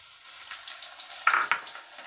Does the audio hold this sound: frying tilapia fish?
yes